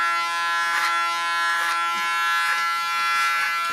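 An electric hair clipper buzzing steadily while cutting a woman's short hair over a comb, a loud constant hum close by with slight periodic swells as it passes through the hair.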